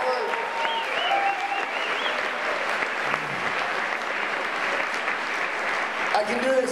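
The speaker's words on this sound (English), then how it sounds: "Applaud the poets, not the score." An audience at a poetry slam final applauds the poets, sustained dense clapping from a large crowd filling the whole stretch at an even level, with a voice speaking over it.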